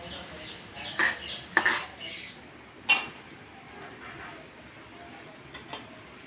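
A pan of homemade onion hair oil is strained, giving a few sharp metallic clinks and scrapes of utensils against the pan, spaced irregularly over a quiet background.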